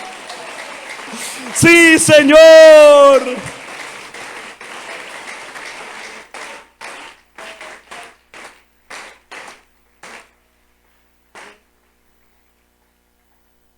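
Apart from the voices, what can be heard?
congregation applauding in church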